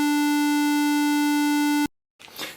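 Steady electronic square-wave tone from a homemade distortion circuit experiment, loud and buzzy with a rich stack of harmonics, holding for nearly two seconds before cutting off abruptly, followed by a brief gap and soft rustling noise.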